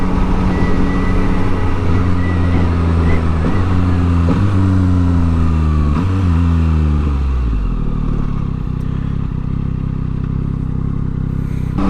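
A Yamaha MT-09 motorcycle with a reprogrammed ECU revs up loudly and close, its engine tone climbing through repeated gear changes. It then settles into a steady lower drone as the ride continues.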